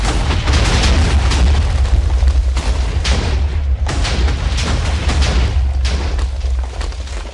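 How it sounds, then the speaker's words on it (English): TNT wrapped around a Minecraft bunker is set off by a rocket launcher, a dense, continuous roar of overlapping booms and blasts, loud and sustained throughout. "I'm going to detonate it with rocket launcher."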